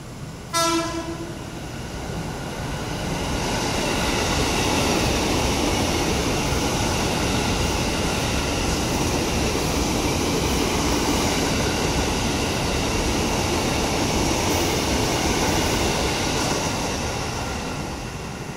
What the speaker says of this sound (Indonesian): Ada KRL masuk.